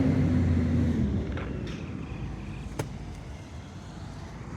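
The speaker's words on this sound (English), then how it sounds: "Great crew, great garbage truck. There goes around the cul-de-sac." An Autocar ACX garbage truck with a McNellus ZR body on a yard-waste route rumbles past at moderate distance, a steady engine drone that gradually fades as it rounds a cul-de-sac.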